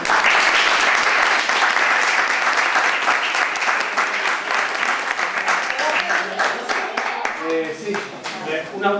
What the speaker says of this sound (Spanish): lo último que os pido es un fuerte aplauso para los autores